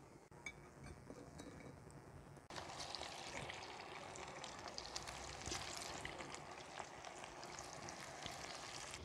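Potato balls frying in hot oil, a steady soft sizzle and bubbling that starts low and then swells into a continuous crackle, with faint clinks of utensils.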